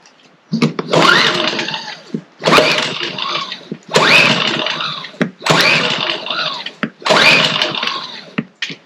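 A gas generator is pull-started with five repeated rope pulls. Each pull gives a rough, loud, sputtering burst lasting about a second, separated by short pauses, and is heard close up.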